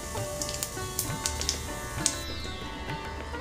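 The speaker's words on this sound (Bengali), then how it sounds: "এবারে সামান্য জিরে ফোড়ন দেব" Cumin seeds sizzling in hot oil for tempering after mustard seeds, with the gas turned low, for a vegetarian South Indian potato curry: a steady close crackle with sharp little pops scattered throughout.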